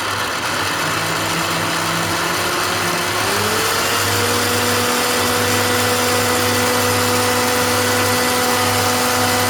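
A Kenwood A701A mixer machine runs at full speed, a loud steady motor whine with a tone that climbs and then holds level throughout, with no voices.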